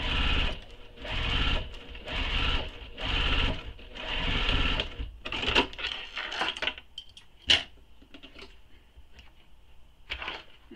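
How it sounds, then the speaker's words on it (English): A sewing machine runs on a long stitch length, basting bag pieces together in several quick buzzing runs back to back, followed by quieter clicks and small handling clatter. "I'm increasing my stitch length and now I'm going to baste these together."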